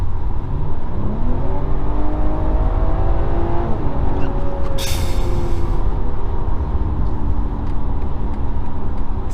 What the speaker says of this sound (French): On se refait une accélération.